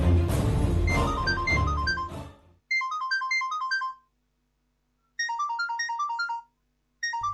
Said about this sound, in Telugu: ఎవరో ఫోన్ చేస్తున్నారు